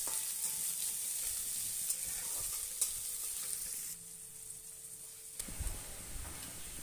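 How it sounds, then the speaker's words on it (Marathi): Chopped onion frying in a pan for chapati churma, giving a steady close sizzle and crackle throughout with brief stirring scrapes, and no talking. "कांदा आपल्याला लालसर रंगावर परतून घ्यायचा आहे"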